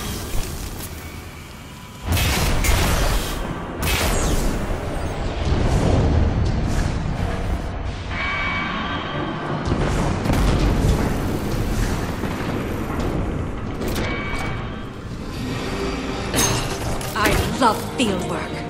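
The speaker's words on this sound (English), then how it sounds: "That blast knocked a few more cell blocks open." In the video game Destiny 2, a loud explosion goes off in a prison complex, a heavy booming burst followed by rumbling debris and lingering rolling noise, with a voice speaking over it.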